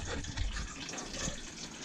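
Water pouring into a 22 litre bucket beside a creek, a brief splashing, gurgling rush, close and moderately loud with no talk.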